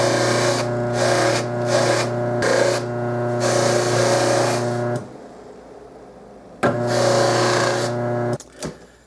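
Motor-driven buffing wheel stripping lacquer from the inside of a brass slide trumpet, a steady loud whine in three long bursts separated by short gaps, then a quiet pause before a final burst that cuts off.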